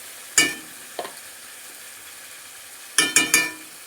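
Dried chili powder and spice masala frying in a pan for chicken kasha, with sharp scraping stir strokes of a spoon: one near 0.4 s, a light tap, then a quick cluster of three toward the end over a faint background.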